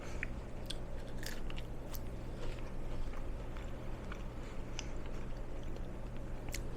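Soft, close crunching bites of crunchy asparagus repeat irregularly over a low steady hum, quiet and crisp.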